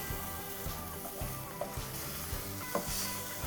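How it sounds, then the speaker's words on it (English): Firm tofu strips hit a hot pan and sear with a steady close sizzle, broken by a few soft clicks and taps as the pieces are laid down. No one speaks. "In on the pan, straight flat down, and putting down our tofu."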